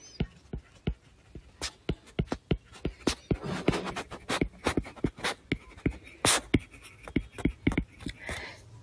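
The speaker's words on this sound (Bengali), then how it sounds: "এটার আমি সংজ্ঞাটা একটু লিখে দিচ্ছি" A hand writes out a definition of a transistor, making a long run of sharp, scratchy strokes and taps. The rhythm is uneven and close up, with no voices.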